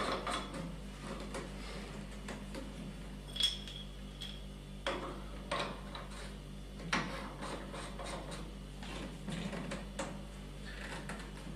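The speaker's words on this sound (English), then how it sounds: "And now I screw the 3/4 of an inch threaded adapters onto the bypass." Threaded three-quarter-inch plastic adapters are screwed by hand onto a water softener bypass valve, giving faint intermittent clicks, taps and rubbing close by over a low steady background hum.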